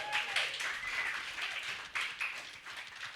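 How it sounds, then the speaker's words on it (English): An audience at a live club night applauds a DJ with steady, fairly close clapping. A few whoops and voices rise through it. "give him a round of applause"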